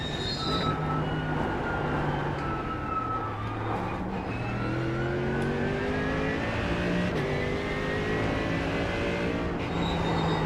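A race car in the iRacing simulator drones and whines through a corner, its tonal engine note sliding up and down in pitch as it brakes and accelerates, steady and unaccompanied by talk.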